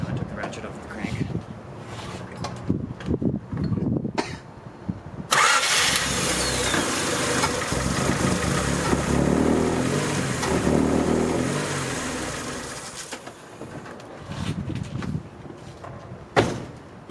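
A 1990 Honda Civic Si engine cranks and catches, then runs loud and rough with a stuttering idle after timing adjustments, heard close by with someone talking before and over it.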